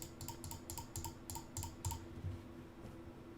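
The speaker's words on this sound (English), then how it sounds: "And a mouse test." Clicks from a computer mouse on a desk near a desk microphone, a quick series of about eight sharp, fairly quiet clicks in an even rhythm, then a few fainter taps.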